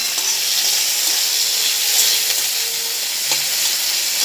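Tomato and green chili frying in a pan with whole cumin, a bright continuous sizzle and hiss, close and steady with faint clicks of stirring and no talk.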